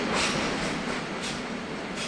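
A Swiss Re 420 electric locomotive hauls a train past near Olten, giving a continuous loud rushing rumble of wheels on track throughout.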